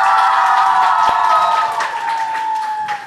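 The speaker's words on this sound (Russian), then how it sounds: "А давайте еще раз аплодисментах искупаем всех артистов." Audience at a farewell concert applauding the performers, a loud dense clatter of clapping with sustained tones running underneath that gradually fades a little.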